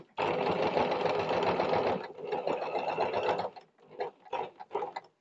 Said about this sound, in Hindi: सिलाई होने के बाद आप पिन को हटाते जाइए और सिलाई करते जाइए